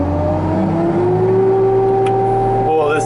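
Cummins diesel engine on a 726 machine with a saw disc, revving up as a loud, steady droning whine that climbs in pitch, running continuously and close.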